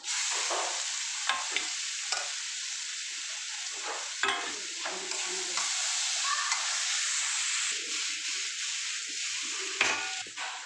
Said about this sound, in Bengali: এবার আমি শাকগুলোকে দিয়ে দিলাম।